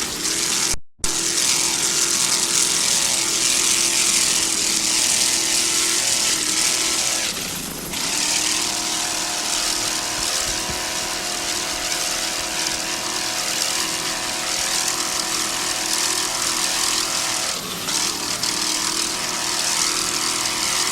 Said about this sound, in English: a 26-foot checkmate powered by one 500-horsepower Mercury inboard with the Mercruiser drive